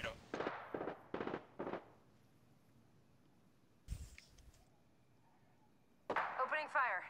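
Short bursts of gunfire from an Apex Legends match pop sharply in quick clusters, first a run of four cracks, then a lone hit and a final dense volley, with quiet stretches between.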